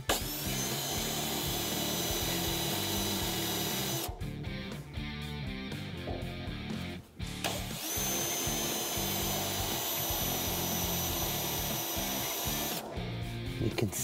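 Power drill with a spot-weld cutter biting into car body metal, a loud steady whine running in long bursts with a brief pause between, close up with no talk.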